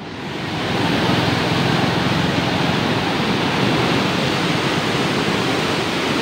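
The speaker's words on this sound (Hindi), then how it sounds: "पानी की स्पीड चेक करें आप।" Fast-flowing water rushes steadily through the Shamai canal in Lal Suhanra National Park, Bahawalpur, a loud, continuous broadband roar close by with no voices.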